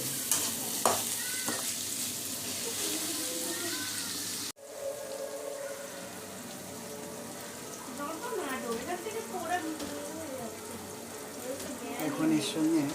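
Onions sizzle and fry in a pan, a constant bright hiss with stirring scrapes, briefly cut off and then resuming while someone talks over it.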